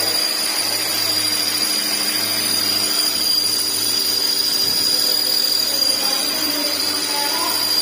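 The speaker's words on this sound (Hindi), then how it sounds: "ये साउंड गियर बॉक्स की तरफ से आ रहे हैं।" An AMT car gearbox with a suspected broken clutch bearing gives off an abnormal mechanical noise: a steady, loud whirring hum with a thin high whine. It runs unbroken for the whole stretch, with no voices over it.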